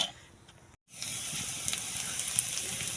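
Chilies fry in a pan on a clay stove with a steady hiss and crackle, broken by a short silent gap early on before the sizzling resumes at an even level.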